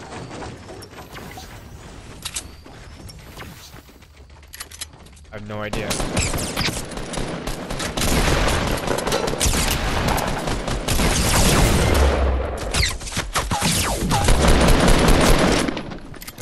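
Gunfire in a Fortnite match, with scattered shots at first, then a dense, loud barrage of rapid fire and bursts that continues to the end, while players talk over it.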